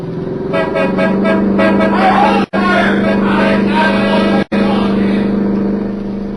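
A car in a radio drama drives through a roadblock, engine droning steadily while a horn blares in repeated tonal blasts, loud and close, briefly cut twice.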